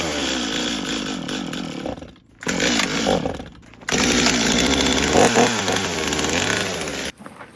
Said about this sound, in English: I was just double checking these chainsaws